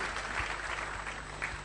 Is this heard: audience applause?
yes